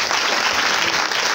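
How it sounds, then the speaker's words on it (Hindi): An audience at a Christian prayer seminar in Yavatmal gives a brief, loud burst of dense clapping, heard close and filling the room. "आप जोरदार ताली बजाइए"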